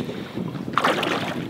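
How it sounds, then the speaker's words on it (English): Breezy wind buffets the microphone on a boat while fly fishing for redfish in Louisiana, a steady low rushing with a brief louder gust partway through, no voices. "A little breezy."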